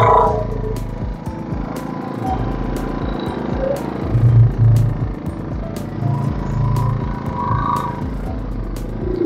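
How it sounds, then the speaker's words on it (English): A power generator runs with the microphone placed right beside it, a loud continuous low rumbling engine drone with slight surges and occasional clicks, no voices. "I'll put it so that you can hear what the generator sounds like."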